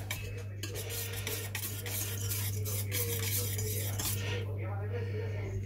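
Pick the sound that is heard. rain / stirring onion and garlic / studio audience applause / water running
stirring onion and garlic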